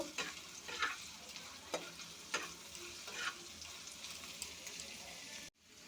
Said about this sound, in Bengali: পেঁয়াজ কাঁচামরিচটা একটু ভাজা ভাজা করে নেব।